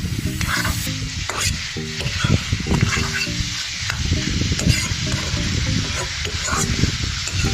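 Broiler chicken is stir-fried with spices in a pan, a loud, close sizzle under repeated scraping and stirring strokes of a spoon against the pan throughout.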